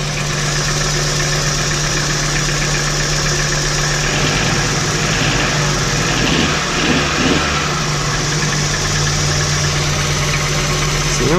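A VW T4 van's 2.5-litre AAF engine idles steadily with a knocking fault, a close, constant low rumble and vibration, with a brief change in engine note midway.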